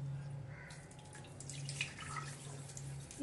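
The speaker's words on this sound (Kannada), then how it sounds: "ಇವು ಸ್ವಚ್ಛ ತೊಳೆದು ಮತ್ತು ನೀರು ಹಾಕಿ ನೆನಾಕಿಡೋದು." Water is poured over washed chana dal in a kitchen vessel to soak, giving a faint, soft trickling splash over a low steady hum, with no clear talk.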